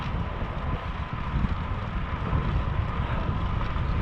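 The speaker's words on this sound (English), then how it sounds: "Wind is not showing me much mercy today on the way back to Kingwood." Strong wind roars steadily across the microphone of a cyclist pedaling home toward Kingwood, a dense, continuous low rumble that swells slightly in the second half with no voices.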